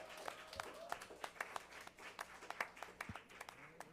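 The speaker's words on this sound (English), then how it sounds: "Let's give these students a round of applause." An audience at a school board meeting applauds the first graduating cohort of a high school, with scattered, moderately distant claps that stay fairly light and uneven throughout, and no one speaking.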